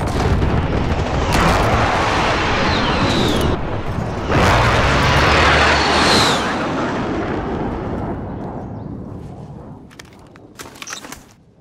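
An incoming airstrike lands in Call of Duty: Modern Warfare, loud, heavy, sustained booms and blasts rolling for several seconds, then thinning into scattered sharper cracks toward the end.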